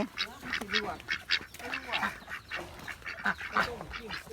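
Several ducks quack in a noisy, overlapping chorus, close by, with honking calls mixed in and continuous background clamor.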